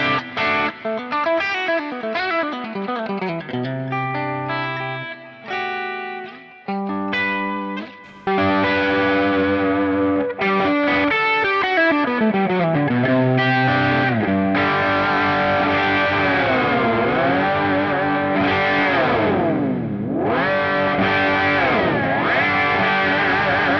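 Electric guitar on the bridge pickup with a heavily driven, distorted tone plays chords and riffs, followed by sustained notes with wide whammy-bar dips, loud and close with no speech.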